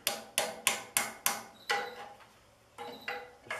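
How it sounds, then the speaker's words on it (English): Sharp hammer blows on the rusted metal of a 2004 Troy-Bilt Super Bronco tiller's tine shaft during oil seal installation, five quick strikes in a steady rhythm, a pause, then a few more, close and ringing with no talk. "I'll take a hammer and I'll hit it"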